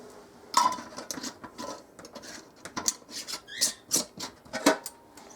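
Metal lids being screwed finger tight onto glass canning jars for corned beef hash, a series of short scraping, rasping twists and light clinks, close and uneven.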